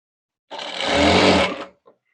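Sewing machine stitching the lining of a choli blouse: one quick, continuous run of stitching lasting just over a second, close and fairly loud, then a brief tap.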